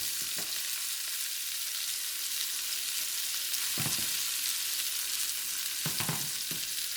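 Shrimp and sugar snap peas sizzle steadily in a hot pan, a continuous bright frying hiss broken by a few brief stirring clatters.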